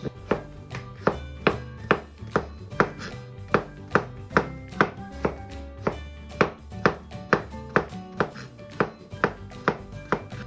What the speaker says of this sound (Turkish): 2 adet kabağımızı kabuklarını soymadan küp küp doğruyoruz